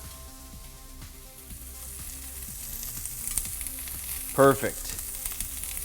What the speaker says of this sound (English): I've got some Vidalia onions, and we're going to saute those until they're nice and golden brown